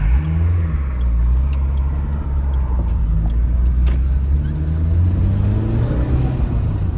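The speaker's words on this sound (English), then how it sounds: "here we are in the 205 GTI. Don't floor it, Brian." A Peugeot 205 GTI drives and accelerates, its engine rumbling steadily from inside the cabin and rising in pitch as it revs up, with no one talking.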